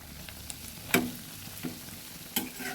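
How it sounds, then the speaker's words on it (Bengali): Cabbage pakoras frying in oil over medium heat, a soft steady sizzle punctuated by a few sharp clinks and scrapes as they are gently stirred, with no talking. "যখন একদিক হয়ে আসবে এবার তখন আস্তে করে নেড়ে দিতে হবে"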